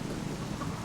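Rain and wind in the Subsistence survival game during a storm form a dense, steady wash of noise with a low rumble underneath, even in level throughout, with no voice.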